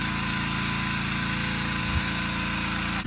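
A motor-driven fan pump drones steadily while inflating a hot air balloon beside trees, a loud, continuous mechanical roar with an even low pulse that barely changes from start to finish.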